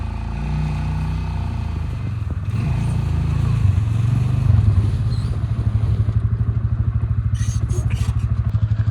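A Polaris Ranger 400 engine crawling slowly ahead on a trail, a close, loud low rumble that lifts briefly in revs, then settles into a rapid, even putter with light clatter.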